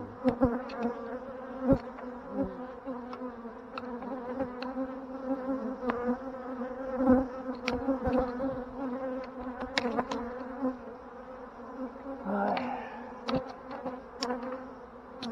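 Honeybees buzz steadily at an open hive colony with a queen fertilization problem, a dense continuous hum close by with occasional louder passes of individual bees, no voices.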